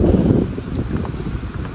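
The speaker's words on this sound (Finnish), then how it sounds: "Täällä vähän tuulee." Strong wind buffets a microphone on a beach at Yyteri, a loud, continuous rumbling roar that swells and eases with gusts and drowns out any other sound.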